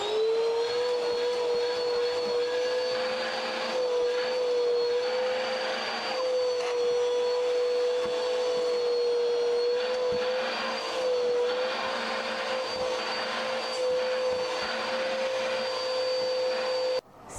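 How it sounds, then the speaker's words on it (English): A vacuum cleaner runs continuously and close while cleaning the seats of a doll car, a loud steady whine with a strong tone that holds throughout and cuts off at the end. "I want to vacuum these seats"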